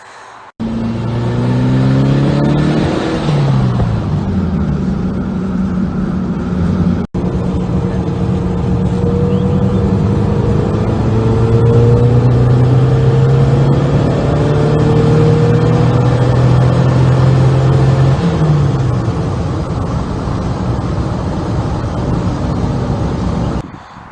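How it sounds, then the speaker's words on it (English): Turbocharged car engine revving repeatedly, turbo spooling and blow-off valve venting, pitch climbing and falling through gear changes, with a brief break midway and wind buffeting the microphone; loud and close. "you guys can hear the blow off valve and hear the turbo spool up"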